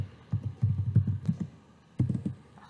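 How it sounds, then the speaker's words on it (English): Typing on a computer keyboard, close by: a quick run of clattering keystrokes, a short pause, then a few more taps, with no talk. "Let me type some message."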